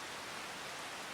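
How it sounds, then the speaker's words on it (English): Heavy rain falling in a farming video game, a steady, even hiss of downpour that holds constant for about a second with no voices. "it's pounding down the rain right now"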